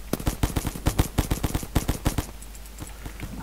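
Loud, closely spaced automatic weapon fire while shooting zombies in the video game Zumbi Blocks 2, a quick volley of sharp shots that stops abruptly, leaving quieter game ambience.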